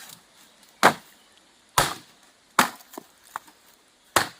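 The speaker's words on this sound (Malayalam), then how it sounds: "ഇതുപോലെ ഈറ്റ പൊട്ടിച്ച് ചതറിക്കുക, എന്നാലേ നമുക്കിത് വളഞ്ഞു കിട്ടുള്ളൂ" Reed cane is snapped and split by hand to make it bendable at a campsite, giving five or six sharp cracking snaps at irregular intervals with small splintering crackles between them, close and loud against quiet surroundings.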